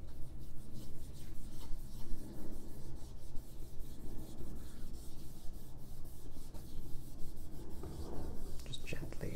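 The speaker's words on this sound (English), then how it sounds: "Just let's rub off some of that excess just to give it a slight stain." Oil paint is rubbed into a canvas to wipe off the excess and leave a slight stain, a steady soft rasping scrub that continues close and unbroken throughout.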